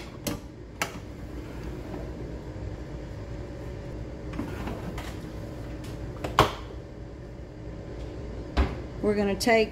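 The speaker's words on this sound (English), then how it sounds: "we're gonna go back to the Combi. And we're gonna put that loaf pan in there." A loaf pan being placed into a Ninja Combi countertop oven, with sharp metallic clicks and knocks of the door and pan, a brief clatter, and soft handling noise, with a person talking intermittently.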